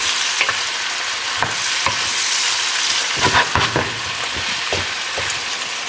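Oxtails brown and caramelize in a hot pan with a steady, loud sizzle, broken by several sharp scrapes and clatters of a utensil stirring and working the pan close up.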